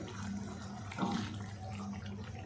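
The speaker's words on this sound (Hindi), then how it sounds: "अब इसमें हम आधा कप जितना पानी भी डाल देते हैं ताकि चिकन हमारा अच्छे से गल जाए।" Half a cup of water poured into chicken karahi cooking on low heat, a soft continuous splash and sizzle with a brief louder surge midway, fairly quiet overall.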